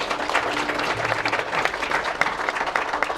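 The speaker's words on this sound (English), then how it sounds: "If you'd like to give a round of applause in appreciation." A conference audience applauds the panelists after a session at the TradeWinds Ship Recycling Forum 2023 in Singapore, a full, even round of many hands clapping that stays constant throughout.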